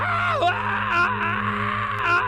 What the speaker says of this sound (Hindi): जो कि अपना गला फाड़कर चिल्ला रहा था।